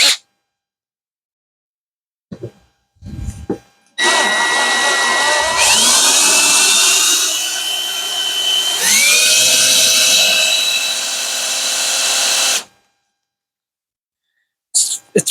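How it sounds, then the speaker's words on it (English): A handheld power drill bores a hole to take a threaded insert, a loud sustained whine running about eight seconds with a slight pitch dip midway, preceded by brief handling clatter and followed by quiet. "So we're going to drill here."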